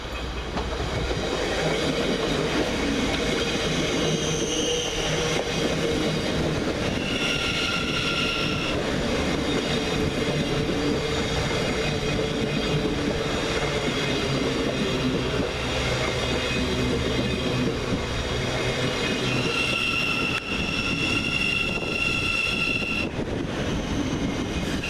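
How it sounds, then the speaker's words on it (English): A Govia Thameslink Class 700 electric train rolls into Peterborough station, a continuous loud rumble of wheels and clickety-clack on the rails with occasional high squeals and tonal whines, close by throughout. "Arriving to terminate on platform 1 with a Gavia Thameslink service from Horsham is"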